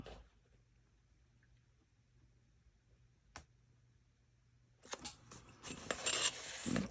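Scissors cut paper for mixed media art: a quiet stretch with one brief snip, then a burst of close, crisp cutting and rustling near the end.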